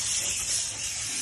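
A short, steady burst of hissing steam from a steam cleaner used to clean a dirty washing machine, close up and continuous with a slight swell in the middle.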